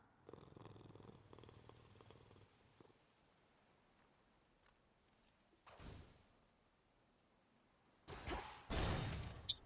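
A cat purrs softly in the video game Hades II, a low, faint rumbling in the first few seconds, followed later by several loud whooshing game sound effects.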